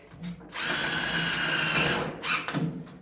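A power drill whirs steadily for about a second and a half, driving a screw with a poly washer through building wrap, with a brief second burst of drilling after a short pause.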